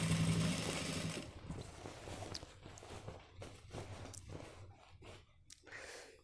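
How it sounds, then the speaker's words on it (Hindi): A sewing machine topstitches along a pant waistband, the stitching running in short uneven bursts that fade from a louder start into softer, intermittent whirring. "सिलाई के ऊपर ही बिल्कुल सिलाई लगानी है हमें"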